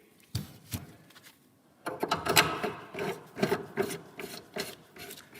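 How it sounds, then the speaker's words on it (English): A new cartridge is pushed back into a Baymak combi boiler valve by hand, giving close, irregular scraping, rubbing and clicking sounds of metal and plastic parts seating, with short quiet gaps between. "Refit the new cartridge."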